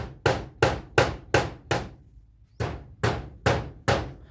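Hammer driving nails into wood, sharp ringing blows struck in a steady rhythm, five in a row, a short pause, then four more, close and clear, no talk.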